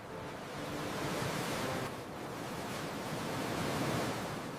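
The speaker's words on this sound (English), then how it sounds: "the beach is incredibly beautiful today" Ocean waves wash steadily onto a sunny beach, a broad continuous surf roar swelling and easing slightly over a few seconds with no voices.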